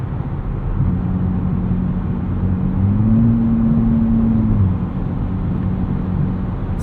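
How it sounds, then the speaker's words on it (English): A 2024 Nissan Z Nismo kicks down from 9th to 5th gear in normal mode, the engine note jumping up and droning as it accelerates, heard from inside the cabin over steady road rumble before settling back. "Let's test kickdown here in normal mode in 9th gear."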